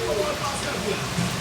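Steady rain falling outdoors during a wet monsoon day, a continuous dense hiss of drops on surfaces with no pauses, fairly loud and close.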